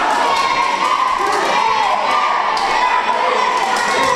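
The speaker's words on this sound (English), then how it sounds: "Crowd here with a chant of chicken aimed towards Blake Reed." Wrestling crowd chanting "chicken" at Blake Reed during a UWC bout, a dense, loud mass of voices and cheers filling the hall, steady throughout with no break.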